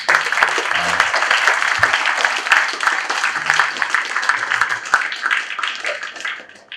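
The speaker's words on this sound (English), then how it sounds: "let's have a final round of applause" Audience applause at a basketball coaching seminar: a roomful of hands claps steadily for several seconds, fairly loud and close, then tapers off at the end.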